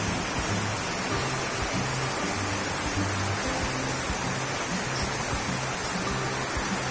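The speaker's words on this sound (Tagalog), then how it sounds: "napakalakas ng ulan" Very heavy typhoon rain from Typhoon Hanna pours down in a dense, steady roar that fills the whole space without a break.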